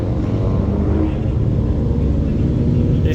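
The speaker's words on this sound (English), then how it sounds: "Why did that Civic sound like that? Oh, these Civics sound gross." A Honda Civic's engine and exhaust drone at a car show, a coarse steady rumble held close and loud throughout with no clear talk over it.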